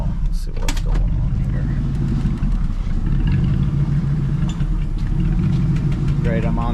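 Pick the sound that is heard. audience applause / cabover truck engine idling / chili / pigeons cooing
cabover truck engine idling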